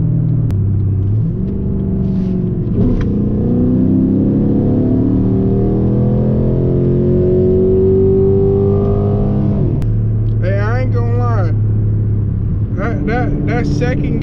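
A Chrysler 300C revs and pulls hard on a Detroit street, its engine note climbing steadily for several seconds before a gear change and a second surge, loud and close from inside the car, with someone talking.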